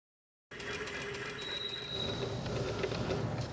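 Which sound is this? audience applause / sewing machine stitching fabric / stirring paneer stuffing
sewing machine stitching fabric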